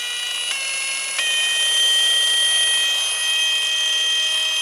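A Milwaukee cordless rotary polisher runs with a shrill, high-pitched whine. The tone steps up in pitch early, then holds steady and loud close by, with no one talking.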